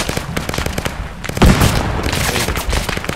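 A grenade explodes inside a room during a Bangladesh Army patrol action in hilly terrain: one loud, sharp blast with a low-end thump, set among ongoing rapid gunfire crackles.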